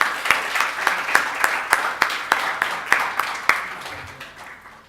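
Sparse, evenly spaced claps ring out from a summit audience thanking interim committee helpers, a slow rhythmic series of distinct hand claps over a soft crowd wash that fades toward the end.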